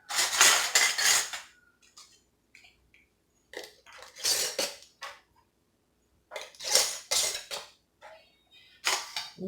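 Metal canning lids and screw rings clink against glass jars of lamb stew as they are fitted and twisted fingertip tight, in several bursts of close metallic rattling and scraping separated by short pauses.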